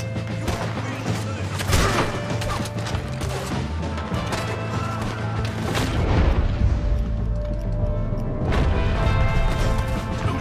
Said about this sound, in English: Let's see what this rifle's about.